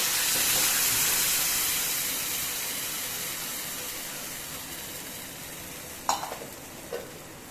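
Curry simmering in oil over a low flame, a steady soft hiss that eases slowly over time, with a couple of sharp clinks from stirring near the end.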